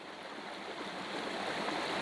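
River water flowing steadily, a soft continuous broadband rush at moderate level, slightly swelling toward the end, with no talking.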